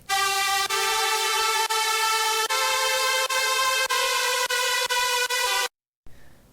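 A bright, buzzy electronic dance music synth lead layer holds steady chords, pulsing in even rhythmic bursts, loud and alone, then cuts off abruptly near the end.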